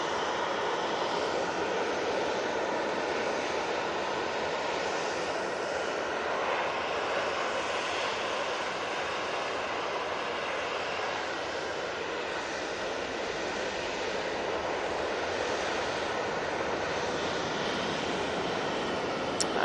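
easyJet jet airliner taking off from Manchester Airport for Amsterdam, a sustained heavy engine roar that stays loud and even throughout, no speech.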